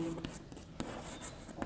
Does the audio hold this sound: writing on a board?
yes